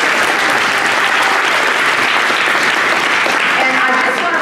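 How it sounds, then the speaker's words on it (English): Loud, continuous applause fills a room at a seniors' African history celebration, a thick unbroken patter of many hands with scattered voices beneath. "Let's give that a round of applause."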